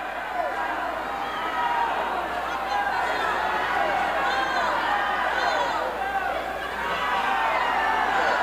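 Wrestling arena crowd at a women's bout between Estela Molina and La Pantera Surena, a dense, steady roar of shouting and chatter filling the whole stretch, with overlapping voices calling out at the wrestler.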